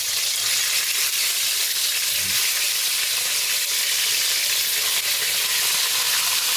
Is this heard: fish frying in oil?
yes